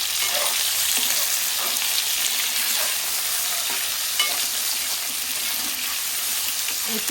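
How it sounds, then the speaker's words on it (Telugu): Boiled eggs, taro, chilies and onions frying in oil and stirred with chili powder, giving a steady loud sizzle with faint scraping stirs throughout, no voices. "మనం ఉడికించుకున్న ఎగ్స్ కట్ చేసుకున్న మిర్చి అలాగే ఆనియన్స్ చామదుంపలు అన్నీ ఆయిల్లో వేసేస్తున్నాను ఇప్పుడు కారం మిక్స్ చేస్తున్నాం"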